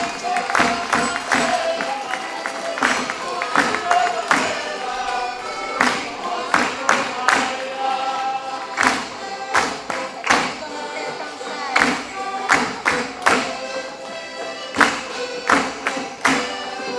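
Audience at a folk festival stage in Barcelos applauds a folk song and dance group from Cerzedo, Vila Nova de Gaia, with scattered sharp claps and bursts over a busy background of music and crowd murmur.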